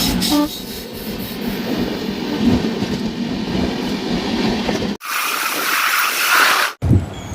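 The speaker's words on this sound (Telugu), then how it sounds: "గుల్లిపాడు రైల్వే స్టేషన్ని స్కిప్ చేస్తుంది మన బండి." A passenger train runs slowly over tracks under repair, with a close, steady rumble and rhythmic clatter of wheels, broken by two abrupt cuts in the sound.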